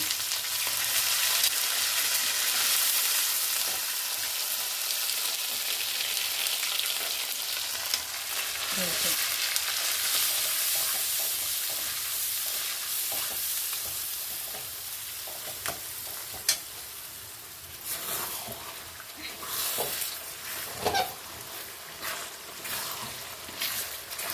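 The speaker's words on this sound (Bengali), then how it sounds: "এই যে কাজু আর চারমগজ বাটাটা ওই তেলে নাড়িয়ে নিয়েছি" A ground paste of cashews and melon seeds is stirred in hot oil for a curd fish curry. A long, even frying hiss runs throughout, with scraping strokes and light taps growing more frequent in the second half.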